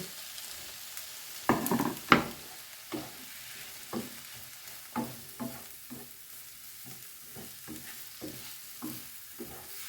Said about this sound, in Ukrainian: Тепер сюди я додаю помідори. І все гарненько перемішаю.